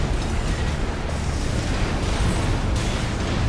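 Missile and plasma cannon explosions from the mech combat game Armored Core 6 make a continuous, loud, rumbling barrage of deep booms and crackling bursts, dense and sustained throughout, with no talking over it.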